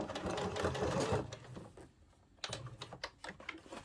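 A sewing machine stitching a jeans hem runs in a loud, dense whir, pauses briefly, then resumes in short choppy bursts while reversing over the starting stitches.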